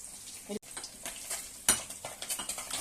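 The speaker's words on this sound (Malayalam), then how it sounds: "ഒരേ സമയം തന്നെ മീൻ വറക്കുന്നു" Soft sizzling of fish frying in oil, with scraping stirs and light clinks of a pan, fairly quiet and close.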